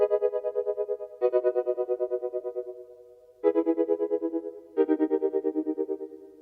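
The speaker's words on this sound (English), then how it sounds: "So this one is the ballad synth," Super 8 synth on its ballad patch plays four sustained, warbling chord-like notes with a wavering chorus texture, each swelling then fading, clear and alone.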